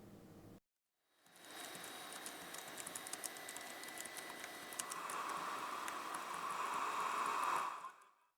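Typing on the keyboard of an HP Compaq nc4400 laptop, a dense, steady patter of light key clicks running for several seconds after a brief pause, close and fairly quiet.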